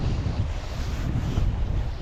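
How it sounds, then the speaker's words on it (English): Strong wind on the River Spey buffets the microphone in a constant, loud, low roar and rumble, with no voices. "The wind has not abated. In fact, it just feels like it's got worse."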